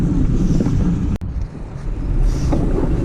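Street traffic around a cyclist riding through Bornova in Izmir, Turkey: a steady broadband rumble of nearby vehicles with wind buffeting the microphone, one sharp brief dropout midway, no talking.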